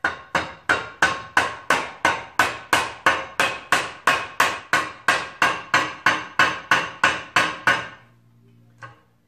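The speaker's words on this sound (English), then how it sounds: "I'm going to tap it with my rubber mallet" A rubber mallet taps on a Wilwood brake assembly for a Ford 9-inch rear end. There are about twenty evenly spaced, sharp strikes at a brisk steady rhythm, close and loud, followed by a brief quiet tail.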